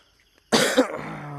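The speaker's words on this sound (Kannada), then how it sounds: "ಕೆಮ್ಮಕ ಫುಲ್ಲು ಹೆವಿ ಕೆಮ್ಮು ಅಂದರೆ ಕೆಮ್ಮು" A single heavy, loud cough bursts out close by after near silence, followed by a fading rasp and low hum with no talking.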